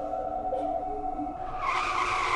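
A car skids with a rising, broadband tire screech that builds in the last second, loud over a steady low background hum.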